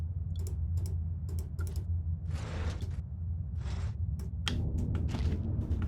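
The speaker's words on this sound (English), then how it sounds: "This typewriter" Soft, quick key clacks from a typewriter in the horror game Penumbra: Overture, struck in short irregular clusters over a low steady hum, fairly quiet and close.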